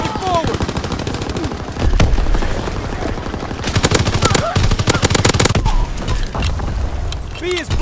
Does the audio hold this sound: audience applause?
no